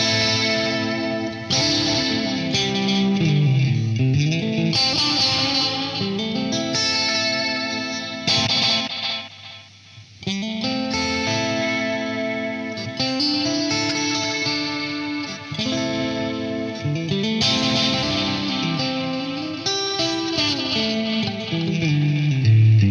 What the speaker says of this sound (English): this will give you more of a reverb-like tone